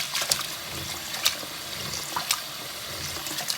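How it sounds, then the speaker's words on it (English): Rice is washed in water, with soft continuous sloshing and swishing and a few sharper splashes, close by and fairly quiet. "So here I'm washing my rice."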